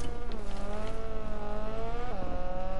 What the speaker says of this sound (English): Sound like a race car.